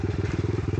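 Small off-road motorbike with a tiny engine, heard close and loud as a steady, rapid low-pitched putter with an even pulsing rhythm throughout.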